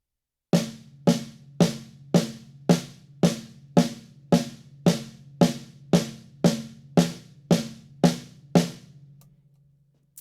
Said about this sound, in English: if I play it just on the snare drum,